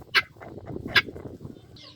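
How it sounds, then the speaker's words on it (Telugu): Laying hens call out, with two sharp, loud squawks spaced about a second apart over a quieter background of low murmuring farmyard noise. "ఇక్కడ రెండు పెట్టలు గుడ్లు పెడతాయి సిగ్నల్ అందిస్తూ ఉంటాయి పైకాడ నుంచి"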